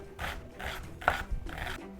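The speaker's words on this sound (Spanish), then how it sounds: "vamos a seguir picando 2 cebollas que las vamos a picar en cuadraditos" Two white onions being diced into small cubes with a knife on a cutting board, giving a rhythmic series of soft, fairly faint chopping taps and scraping strokes, close by with no talking.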